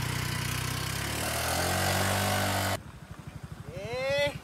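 A motorcycle engine runs loud and rough, then drops to a steady, pulsing idle close by while people shout over it.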